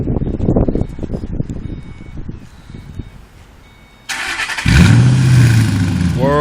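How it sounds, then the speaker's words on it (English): A 2005 Ford Mustang GT engine cranks and fires up into a loud, deep, rumbling idle through a throaty new Pypes axle-back exhaust, following a stretch of nearby talking. "2005 Mustang with fresh new Pypes exhaust."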